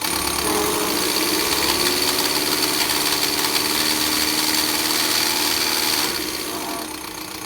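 A Ford 6610 farm tractor's diesel engine runs steadily and loud at high revs, a dense mechanical roar with rattling vibration, easing slightly near the end.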